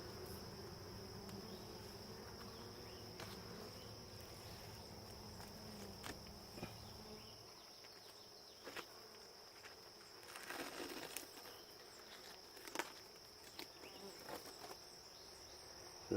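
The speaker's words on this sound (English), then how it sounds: "release the bees." Bees released into a new hive give off a faint, steady buzz with scattered light knocks and rustles, mostly quiet and close.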